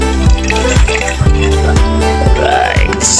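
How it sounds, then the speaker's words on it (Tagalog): Hot water is poured over a rusty motorcycle fork oil seal to loosen it, a loud close splashing trickle with repeated pulsing beats from a machine running nearby, and a brief spoken word. "Bigyan natin ng mainit na tubig."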